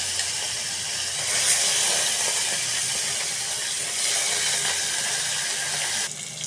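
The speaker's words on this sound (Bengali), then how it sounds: "এখন আমি কই মাছটা ভেজে নিব।" Koi fish frying in hot oil in a wok, a loud steady hiss and crackle that swells and eases, with no talking over it.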